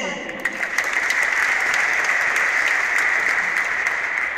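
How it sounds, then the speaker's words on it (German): Crowd applause at a 1. FC Kaiserslautern stadium festival squad presentation, greeting a football player: a dense, steady wash of clapping that swells quickly and holds loud and close for several seconds. "er bekommt einen dicken Applaus"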